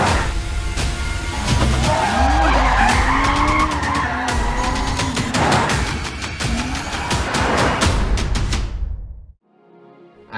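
A Toyota car drifting under autonomous control, engine roaring and revving with long, wavering tire squeals and skids, loud and close, before cutting off abruptly to near silence.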